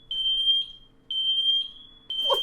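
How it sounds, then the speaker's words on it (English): A smoke detector sounds a loud, shrill, steady beeping tone in a regular on-off pattern, three long beeps with pauses, with a brief clatter at the end. "smoke detector"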